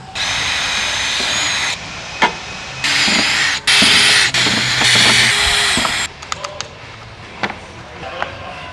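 A power drill with a 6.5mm bit bores holes while a splitter kit is fitted to a Kia Cerato GT sedan. It whines loudly in several sustained bursts, followed by a few short clicks and knocks.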